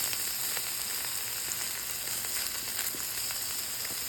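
Ham frying in a pan for huevos rancheros, a steady close sizzle and crackle with faint scattered pops running throughout, no talking.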